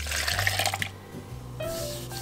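A cup of water poured into a blender, a continuous close splashing rush that shifts in pitch as it fills, with a faint clink near the end.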